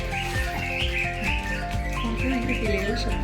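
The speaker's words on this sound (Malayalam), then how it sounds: "കിളികളുടെ ശബ്ദം." Bird chirps and tweets repeat continuously, close and fairly loud, over a steady tonal drone.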